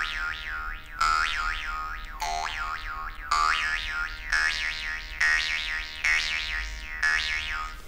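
A jaw harp plays a spacey effect, its twanging drone swept by repeated vowel-shaped wah sweeps in a steady rhythm of about seven pulses, close and clear with no talk.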